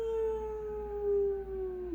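A person's voice imitates the howl of a farm dog answering a passing train: one long, sustained wailing note, loud and close, that slowly slides lower in pitch, with no other voices heard.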